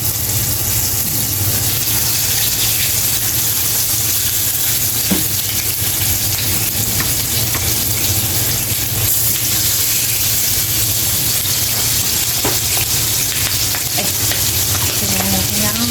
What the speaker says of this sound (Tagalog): So, ayan na. Start na tayo mag-prito.